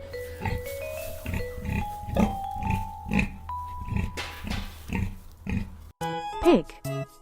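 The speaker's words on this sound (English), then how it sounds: "Pigs are among the smartest farm animals." A pig grunts and oinks in a run of short, rhythmic snorts, close and fairly loud, ending in a higher squeal.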